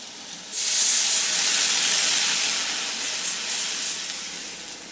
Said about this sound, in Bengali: এখন এর মধ্যে আমি জল দিয়ে দিচ্ছি